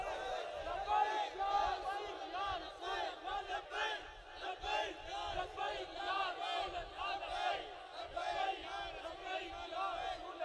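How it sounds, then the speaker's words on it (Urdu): A large crowd at a religious gathering chanting the Labbaik slogan in unison, with repeated rhythmic shouted phrases rising and falling at a moderate distance over about ten seconds. "ایک بار لاؤ لبیک دا نعرہ."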